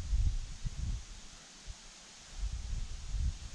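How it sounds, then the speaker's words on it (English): Wind gusts into the microphone in low rumbling bursts, strong at the start and end with a calmer lull in the middle. "as we wait till the wind dies down"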